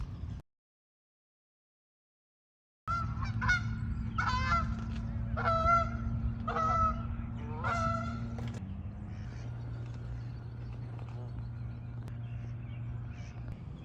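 Geese honking at a park, a run of five or six loud, close honks in quick succession, then fading to a steady low rumble of background noise with no voices.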